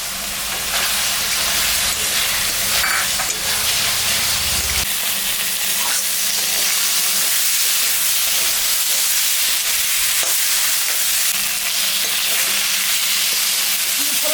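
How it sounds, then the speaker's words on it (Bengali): Spiced masala and tomato fry in a pan for a katla fish curry, giving a loud, steady sizzle and crackle that fills the whole stretch without any talk. "মশলাটা ভাজা হয়ে গেছে"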